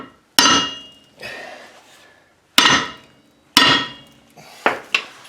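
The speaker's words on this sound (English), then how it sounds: "Don't be scared to hit it pretty hard with your big friendly hammer" A big hammer strikes a rusty rear brake drum on a 2005 Chevy Colorado, three hard metallic blows with ringing decay, then two quicker hits close together, loud and close with no talk.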